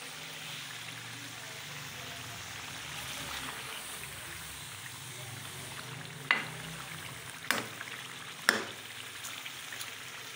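Goat liver roasting in a pan with tomatoes and green chillies, a steady low sizzle running throughout with a few sharp utensil clicks near the end.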